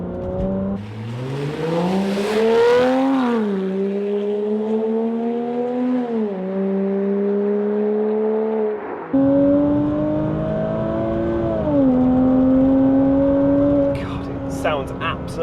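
A Porsche Cayman 987 engine rising and falling through several gear pulls, a steady loud drone that climbs in pitch, dips at each shift and climbs again, heard from on board with no talking.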